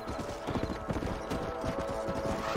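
Horse hooves in the Red Dead Redemption video game, a quick steady clip-clop gallop at moderate level over ambient game sound.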